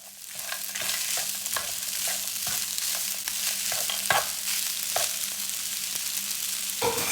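Peas and rice fry in a pan for longganisa fried rice, a steady close sizzle broken by repeated scraping knocks as a utensil stirs through them.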